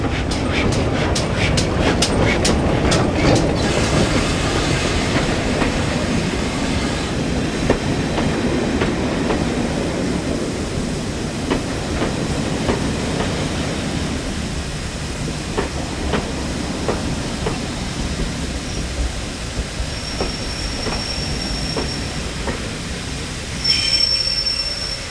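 A train hauled by a Manor class steam locomotive rolls into a West Somerset Railway station with a loud continuous rumble, rhythmic clacking of wheels over rail joints, and high squealing from the wheels near the end.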